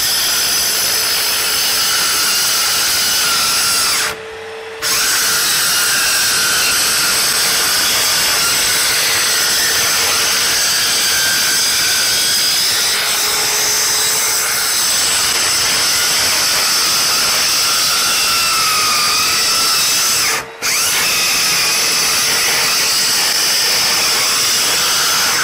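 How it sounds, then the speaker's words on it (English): A Hychika mini circular saw with dust collection rips through plywood in a loud, sustained whine, briefly cutting out twice as the blade bogs down before spinning back up. "what I'm really looking for is to see if it bogs down cutting through this plywood"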